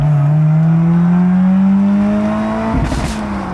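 A car with a valved exhaust holds a loud, steady drone that climbs slowly in pitch as it revs, closing with a brief rough burst of noise near the end.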